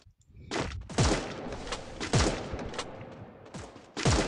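Gunfire in Garena Free Fire comes in loud, close bursts of rapid shots with heavy booming impacts, several volleys packed together, and a brief lull between them.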